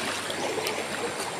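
Water in a river where people are bathing flows and trickles steadily, a continuous rushing wash with no voices.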